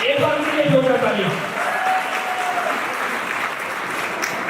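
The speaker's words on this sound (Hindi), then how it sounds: "एक बार उनके लिए जोरदार तालियां।" An audience at a motivational talk claps loudly and steadily throughout, while a voice is heard over the applause at the start.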